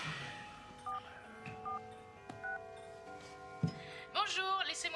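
A phone call being dialed, with short separated dial-tone beeps at a steady pace, then a brief click and a rising burst of electronic tones near the end, all fairly faint.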